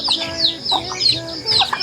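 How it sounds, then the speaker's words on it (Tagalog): Several chickens clucking and calling close by, a busy overlapping flock with repeated short cackles and no talking. "Madami na yung manok natin."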